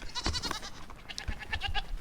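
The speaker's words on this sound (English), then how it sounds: "one of my goats got out into the main yard" A goat out in the main yard of a farm bleats repeatedly, a few loud, close wavering calls in quick succession with no talk over them.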